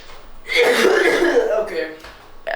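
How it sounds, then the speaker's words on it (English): A single harsh, drawn-out cough close to the microphone, followed by a short breathy sound. "I have to cough."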